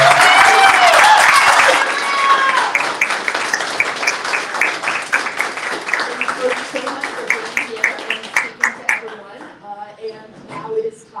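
An audience applauds at a book presentation at Busboys and Poets. Loud, dense clapping is heard close by, then thins into scattered, separate claps that taper off toward the end.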